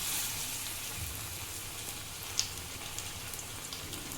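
Parippu vada, lentil fritters, frying in hot oil, giving a steady soft crackle and hiss that runs throughout with one brief sharper pop, and no voices.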